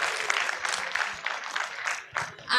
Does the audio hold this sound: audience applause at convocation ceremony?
yes